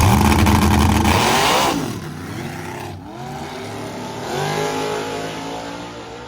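Loud nitrous drag race car engines roar and rev, fading slightly then surging again, with a continuous high-pitched whine throughout.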